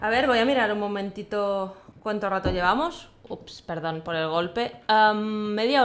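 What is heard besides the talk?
No distinct noise like a dog, phone or traffic.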